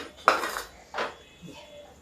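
Steel dishes and utensils clattering in a home kitchen while food is served, a few sharp metallic clinks and scrapes spaced apart, close and fairly quiet.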